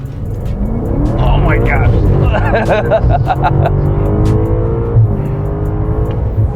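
A 700+ horsepower BMW F90 M5 sedan accelerates hard on the road, its engine note rising through rapid gear pulls with a loud, close roar, while occupants react excitedly over it.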